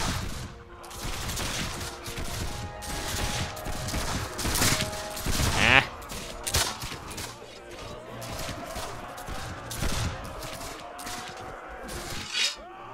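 Gunfire in the video game Mount & Blade: With Fire & Sword during a battle: repeated loud musket shots and volleys over a dense din of combat noise, with someone talking intermittently over it.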